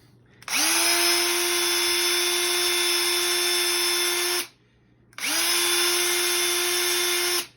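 A power drill whines steadily at high speed for about four seconds, drilling a hole in a freshie, stops briefly, then runs again in a second long burst, close and loud.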